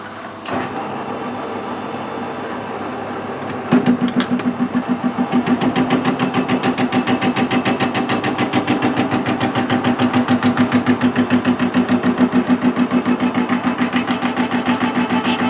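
A gear cutting machine runs with a steady rhythmic chatter as its cutter just touches the gear teeth, a fast regular ticking over a mechanical hum, after a quieter start.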